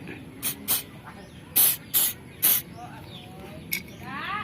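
Short hissing bursts of asphalt remover from a spray can, several quick sprays spaced a beat or so apart, close and fairly loud, with faint background noise between them.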